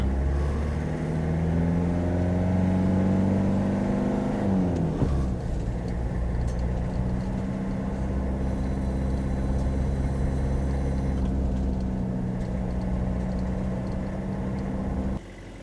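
A 1992 Toyota Hiace Tomboy camper, a Japanese-market 4x4 motorhome, runs with a steady engine drone that dips and shifts in pitch partway through, then settles into a continuous rumbling idle, close and fairly loud throughout.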